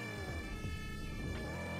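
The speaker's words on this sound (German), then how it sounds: "Aber ich höre nur Krankenwagen." A wailing ambulance siren from a Roblox game set in Hamburg sounds continuously and loudly, its tone sweeping up and down over a dense electronic background.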